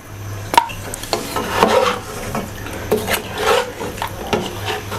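Raw chicken, one kilo, tipped into a karahi on a lit stove, giving scraping, rubbing and clattering pieces against metal in several bursts, close and fairly loud, with a steady low hum beneath.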